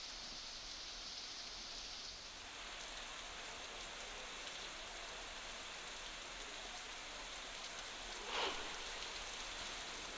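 Heavy monsoon rain falls in Barmer, Rajasthan, a dense, even hiss of downpour at a faint level, steady throughout with one brief louder splash near the end and no voices.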